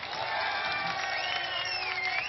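A crowd at a political rally in Bhavnagar, Gujarat claps and cheers throughout, steady applause from a large gathering with whoops over a reverberant public address.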